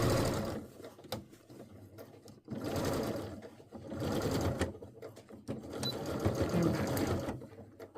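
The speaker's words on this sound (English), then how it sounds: "You're going to sew right up into the seam line." A sewing machine stitches a seam on a Vogue 9292 garment in several rapid bursts of close, busy whirring with short pauses between runs. A voice briefly says a word.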